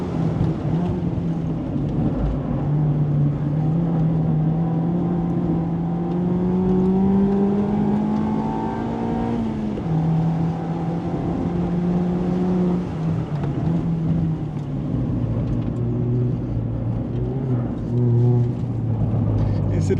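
A Mazda Roadster ND5RE accelerates hard around Asan Circuit, its engine note climbing steadily through the revs, dipping at a shift, then rising again, loud and close with constant road and wind roar throughout.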